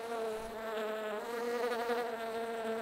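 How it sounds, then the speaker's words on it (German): Steady, close buzzing of a fly in the video game The Plan, a continuous droning whine with wavering pitch that holds throughout without any talking. "jetzt bei The Plan spielen wir eine Fliege."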